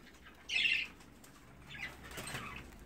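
Birds in a breeding room flap their wings: one sharp, close burst of flapping followed by softer, more distant wingbeats and rustling, with no talk.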